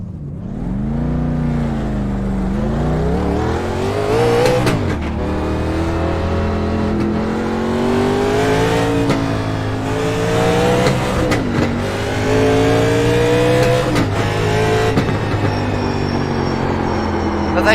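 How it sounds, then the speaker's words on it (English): Chevrolet Monte Carlo engine in the iRacing sim, revving up and down through repeated climbs and drops in pitch with brief shifts, loud and close throughout. "Well, the engine's the same."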